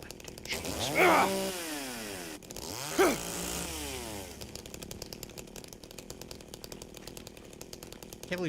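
A chainsaw in Silent Hill 2 revs twice in sharp bursts, each rising then winding down with a falling whine, before settling into a steady, rattling idle that runs on to the end.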